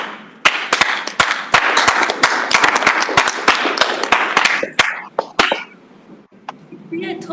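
A small audience claps after a talk, a dense burst of close hand claps that thins to a few scattered ones, with brief voices near the end.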